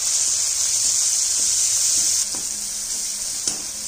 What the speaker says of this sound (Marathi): आपण जे हिरव्या मिरचीचं वाटण करून घेतलं होतं ना ते पण ह्याच्यामध्ये टाकून घ्यायचं आणि थोडीशी हळद टाकायची आणि चांगलं असं परतून घ्यायचं